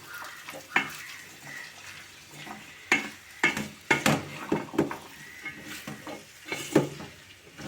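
Carrot curry being stirred in a frying pan in a village kitchen, with scattered clinks and scrapes of a spoon against the pan over a low sizzle, close and moderately loud, no talking.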